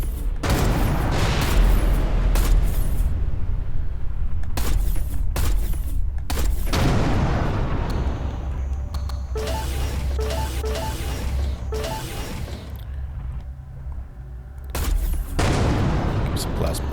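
Explosions and blasting weapon fire in the space-combat video game Everspace 2, loud dense bursts that keep returning through the stretch, with a brief steady electronic tone partway through and a voice talking over the game audio.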